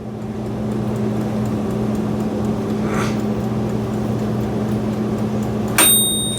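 Steady fan hum of a small air fryer cooking hotdogs, droning on before a single bright timer ding rings out near the end.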